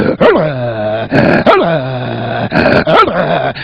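A voice imitates an angry dog growling, delivered by a Sindhi comedian on a live stage show: three loud, close snarling bursts with rising yelps, each followed by a sustained rumbling growl.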